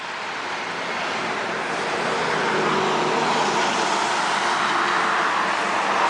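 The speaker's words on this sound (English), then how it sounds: "And now we're at the intersection where we always cross the street." Steady, loud wash of road traffic at a street intersection, cars passing continuously in a broad rushing roar that swells slightly over several seconds, no talking.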